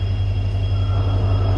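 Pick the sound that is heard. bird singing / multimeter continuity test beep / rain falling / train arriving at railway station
train arriving at railway station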